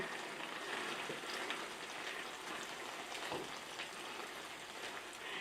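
Chicken, vegetables and udon noodles in a stir fry sizzle softly in a pan, a quiet, even crackle with scattered small pops and no voices.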